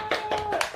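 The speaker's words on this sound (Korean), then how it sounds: "박수!" Four quick hand claps at a church family worship service, evenly spaced and close, with a sustained tone lingering beneath.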